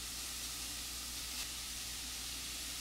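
Ground Italian sausage cooking over medium heat in a pan for lasagna, giving a soft, even sizzle and hiss that holds steady throughout, with no talking.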